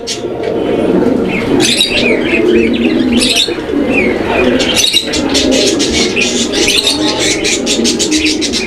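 Copper pigeons at a pigeon seller's coo loudly and close by in overlapping, continuous throaty calls, with a few sharper chirps and wing or cage rustles mixed in.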